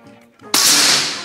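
A single sharp air rifle shot cracks loudly and close, a sudden bright burst that rings off and decays, preceded by faint murmuring voices.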